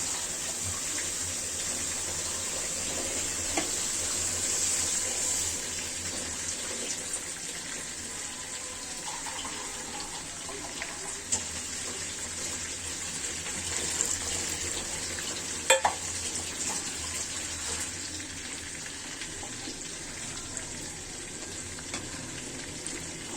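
Water poured into a pan of fried cauliflower for a curry, hissing and sizzling steadily in the hot pan with a broad, continuous wash of sound and a brief sharp clatter near the end.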